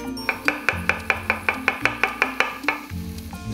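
A knife chops shallots on a cutting board in a home kitchen, striking about fourteen times in a brisk, even rhythm. Each sharp, close tap rises over a faint background hum, and nobody speaks.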